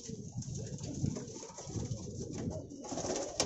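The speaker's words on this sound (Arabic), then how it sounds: "كل ده فوقنا الحمام ده كله فوقي" Pigeons coo softly in a long rooftop loft in Ezbet El Borg, Damietta, Egypt, with a low, continuous murmur of overlapping calls and faint background noise.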